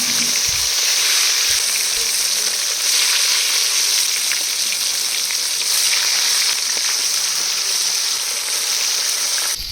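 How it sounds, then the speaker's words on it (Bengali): Pieces of katla fish, a large pond carp, frying in hot oil, giving a steady, dense sizzle that stays loud and even from start to finish with no talking. "মাছ ভাজা হচ্ছে"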